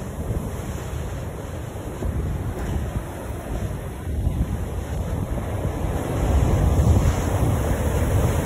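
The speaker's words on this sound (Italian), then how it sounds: "Guardate dove arrivano le onde, arrivano quasi a sfiorarci." Rough sea at Capo d'Orlando sends waves crashing onto the shore close by, a continuous loud roar and wash that swells toward the end, with wind buffeting the microphone.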